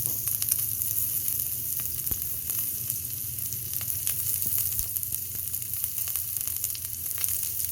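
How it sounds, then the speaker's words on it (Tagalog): Onion frying in oil in a non-stick pan, a steady, even sizzle that holds at a constant level throughout with faint crackles and no talking. "lagyan na natin yung ating sibuyas"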